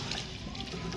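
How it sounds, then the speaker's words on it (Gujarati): Half a pot of water poured into a pan of cashew paneer masala curry: a steady, close splashing gush with a broad rushing texture that continues throughout the second, with no talking. "તો હવે આપણે એમાં નાખી દેવાનું છે પાણી. એક અડધો કળશો નાખવાનો છે."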